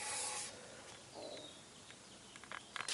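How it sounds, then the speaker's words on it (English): Portable power sander working over the rounded edges of a wooden shooting table, a faint abrasive whir that fades after a brief louder start, with a few light knocks near the end; no talking. "I just did a little sanding with a portable power sander, as well as around these edges as well."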